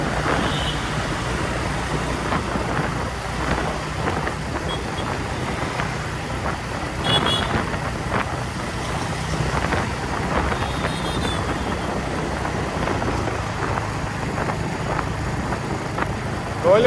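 A Royal Enfield Hunter 350 motorcycle cruises in fifth gear through hot Dhaka traffic, its engine a steady low thrum mixed with road and wind noise, a voice talking over it throughout.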